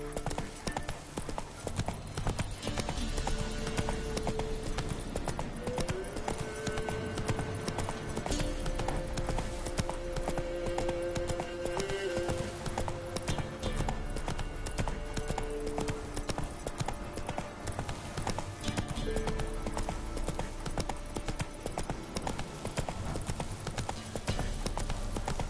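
Geralt's horse Roach gallops in The Witcher 3 with a long, steady stream of clip-clopping hooves, heard close and continuous under faint background music.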